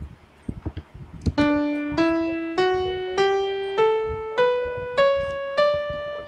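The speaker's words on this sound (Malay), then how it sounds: "dia bunyi piano. Contohnya saya mainkan scale ni ya." Synthesized piano from a music notation app playing an ascending scale at tempo 120, nine evenly spaced notes rising step by step, clear and moderately quiet, preceded by a few soft clicks.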